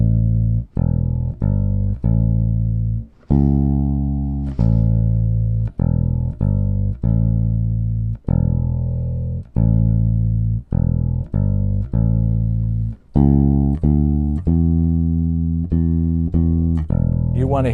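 Bass guitar notes, including a minor third on C natural, sound as a run of deep, firm plucked tones in a steady rhythm, loud and close with no talking.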